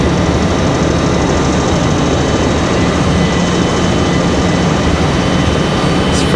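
A Delta Airbus A321 arriving from Detroit at Raleigh-Durham airport, heard as a steady, loud broadband jet roar that holds without a break throughout, with no voices over it.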